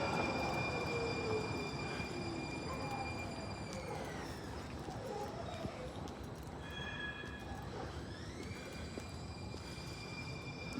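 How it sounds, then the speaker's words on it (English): A San Francisco Muni N train rolls past nearby, steady rumbling with high metallic squealing tones that rise and shift as it moves, continuous and fairly loud throughout. "If that's the N train coming up behind me, I might try it."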